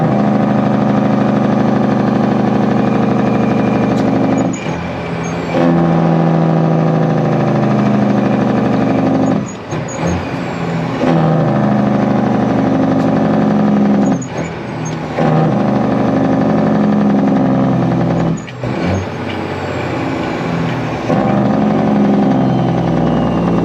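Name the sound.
truck engine revving with jake brake on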